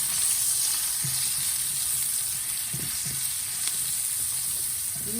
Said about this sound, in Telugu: అలాగే పసుపు వేసి వేయించుకుందాం